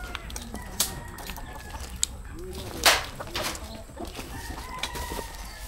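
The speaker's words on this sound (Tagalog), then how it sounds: "Tabi ng habitat ang mga manok." Chickens cluck and a rooster crows in an outdoor yard near a habitat where pythons are drawn in, the birds moderately distant beneath steady ambient noise with faint scattered sounds.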